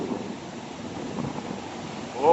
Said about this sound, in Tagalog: Dagko kay balon